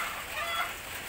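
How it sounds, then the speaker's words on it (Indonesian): Chickens cluck in a noisy village farmyard, a faint, blurred bird chatter set in a busy background wash without any clear speech. "Saya mendengarkan kokok ayam,"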